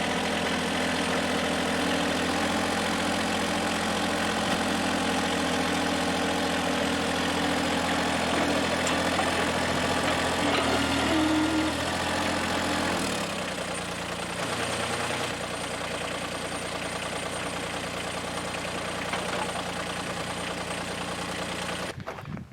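A tractor engine idles steadily and loudly nearby for the whole stretch, a constant droning rumble that shifts slightly partway through as it keeps running without pause.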